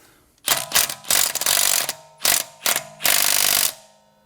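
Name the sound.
compact mid-torque impact wrench trying to remove a car wheel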